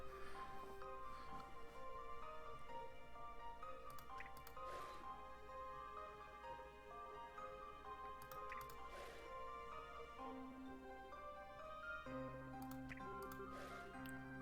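Faint liquid pouring and dripping sounds from the Professor Layton vs Phoenix Wright puzzle game, scattered drips over soft, sustained background music.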